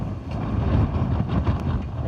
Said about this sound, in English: It's pretty cool and windy